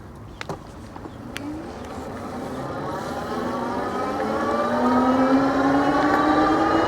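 RAEV Bullet GT electric bike speeding up on its thumb throttle, a steady motor whine rising smoothly in pitch and growing louder over several seconds, with wind and road noise underneath and no talking.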